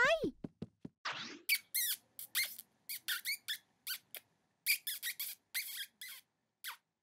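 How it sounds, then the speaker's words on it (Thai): Rapid high-pitched squeaks in irregular bursts, some chirping and some sharp, close by, with brief silences between them. "เสียงหนูร้อง หนูร้องจิ๊บจิ๊บ"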